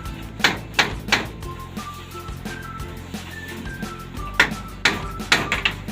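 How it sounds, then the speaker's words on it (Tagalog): A blacksmith hammers nails into wood, sharp distinct strikes in small bursts, a cluster near the start and more toward the end, close and loud over a quiet background. "Ngayon, ipako na po natin."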